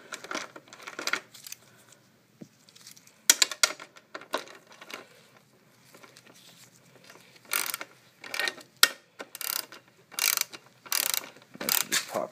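Ratchet wrench clicking in short bursts as it backs out a rear fender screw on a 1975 Honda CB750 cafe racer project, close and crisp with pauses between strokes.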